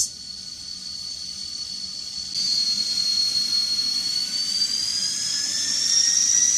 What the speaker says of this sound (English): the sound value does go up a little bit louder when the engine's running up a lot more RPMs